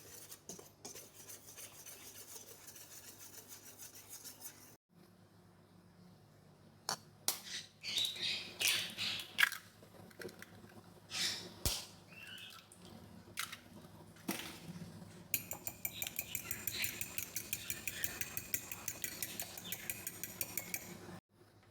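Whisking dry ingredients for healthy banana bread (flour, baking soda, salt and cinnamon powder) in a bowl, quiet scraping and clinking strokes in short irregular bursts, then a faster rhythmic run, close but faint, no talk.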